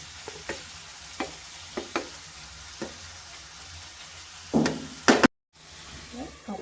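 Squid frying in oil in a covered pan, a steady soft sizzle with scattered knocks and clatters of the lid and utensils, swelling louder near the end as the lid lifts, then a brief cut before the frying resumes.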